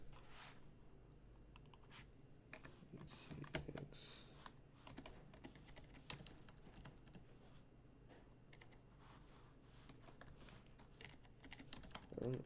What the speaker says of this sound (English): I don't know why I was having problems typing.